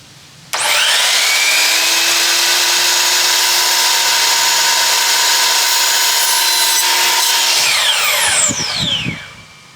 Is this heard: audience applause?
no